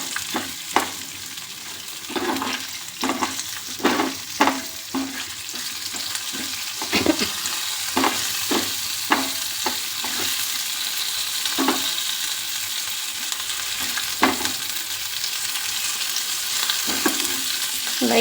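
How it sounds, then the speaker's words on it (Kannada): Ingredients for an ash gourd buttermilk curry lightly frying in a pan, a soft continuous sizzle punctuated by frequent scraping stirs and clinks of a spoon against the pan, close and without talk. "ಲೈಟಾಗಿ ಹುರ್ಕೊಂಡ್ರೆ ಸಾಕು ಫ್ರೆಂಡ್ಸ್."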